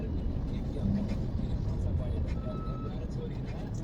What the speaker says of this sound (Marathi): आता ही तुर्भीची ट्रॅफिक